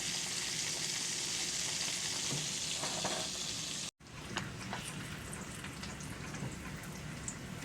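Bacon rendering in a pan gives a steady, continuous sizzle and crackle, close and moderately quiet, with a brief break midway before the frying noise resumes.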